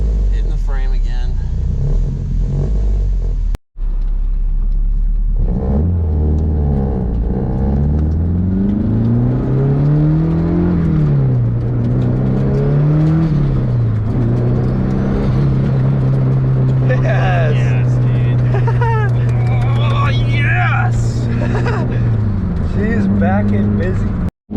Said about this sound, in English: That's my exhaust.